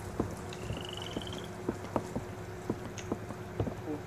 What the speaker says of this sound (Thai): กูเกลียดเสียงกบ